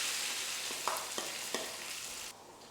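Potatoes dropped into hot oil with garlic and ginger paste in a home vegetarian Indian kitchen, a continuous bright sizzle broken by a few clacks of a spoon stirring, then the frying quiets sharply near the end.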